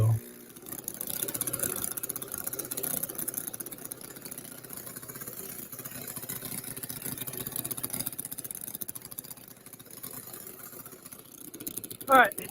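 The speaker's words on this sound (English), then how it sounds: "this engine's running beautifully, like always" Aircraft engine idling steadily on a plane being readied for a round-the-world flight, a continuous mid-pitched drone holding evenly throughout with a brief louder bump near the end.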